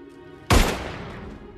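A single sharp, loud gunshot bursts out in a film scene and leaves a decaying echoing tail, with nothing else around it.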